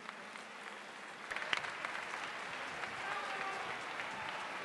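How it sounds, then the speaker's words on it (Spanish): Audience applause at a Latin dance cultural show, a steady wash of clapping from a crowd heard at moderate distance, fairly soft and continuous throughout. "más fuerte el aplauso que se escuche para nuestros invitados"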